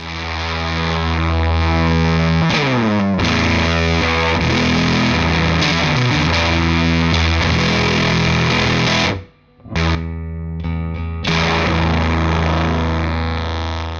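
An electric guitar played through a Redbeard Effects Honey Badger octave fuzz pedal gives a loud, thick, sustained distorted tone with chord changes. The sound cuts out briefly near the end, then rings on again.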